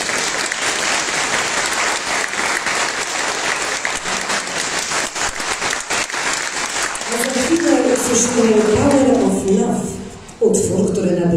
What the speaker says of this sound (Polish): Gorące brawa dla orkiestry.